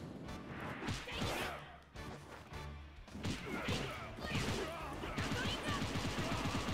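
Rapid Gatling gun fire in the video game One Piece: World Seeker, bursts of dense crackling shots with impacts and crashes over a busy game soundscape, a voice speaking and exclaiming over it.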